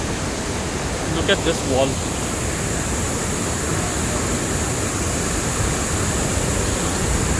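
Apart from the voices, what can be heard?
large 50-foot waterfall in Chhattisgarh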